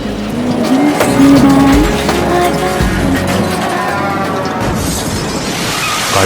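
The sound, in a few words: car skidding and crashing, sound effect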